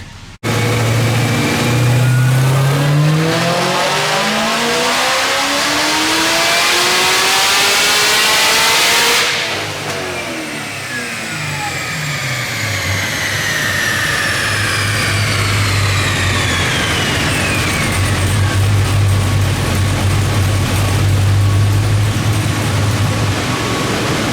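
A Nickey Stage 2 Chevrolet Camaro ZL1 1LE with its LT V8 revs hard on a dyno, climbing to a loud scream, dropping back, then winding up again and holding a sustained roar, close and with no voices.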